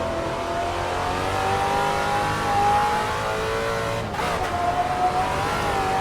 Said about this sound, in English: I am heel toe clutch shifting. See on the downshifts right there